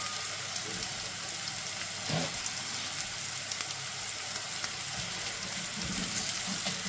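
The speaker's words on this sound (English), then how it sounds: "I'm going to put our sunflower seeds in." Sunflower seeds, about three-quarters of a cup, toast in a frying pan beside a mushroom-and-cinnamon mince substitute, giving a steady, close sizzle and crackle throughout with a few faint scraping stirs.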